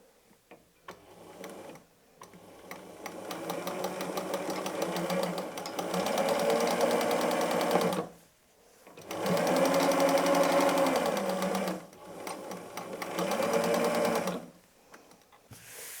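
Sewing machine stitching patchwork seams in jelly-roll fabric scraps for an Easter basket, running in three long steady bursts of fast rhythmic clatter, close and clear, separated by short pauses.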